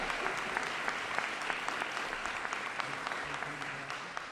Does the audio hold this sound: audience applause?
yes